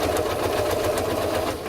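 A sewing machine stitching a seam runs steadily at speed, giving a loud, rapid, even mechanical chatter close by that continues unbroken throughout, with no talking.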